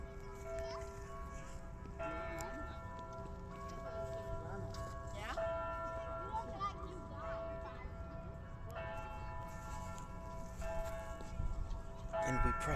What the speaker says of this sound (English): Big, I think, church bells?